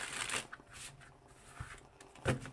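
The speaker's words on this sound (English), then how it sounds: "One more shuffle, guys." Tarot cards are shuffled by hand in a few quick riffling bursts, close and fairly soft, with short pauses between them.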